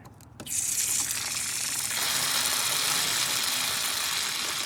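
Water gushes steadily from the low point drains of an RV being winterized, a loud continuous rushing hiss that starts abruptly after a brief moment of handling noise and keeps a constant level.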